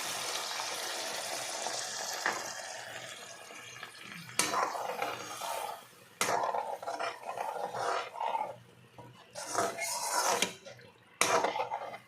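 Water poured into a pan while cooking an egg dish with chickpeas, a loud, rushing splash and roar close by, broken by clanks of metal cookware and brief pauses.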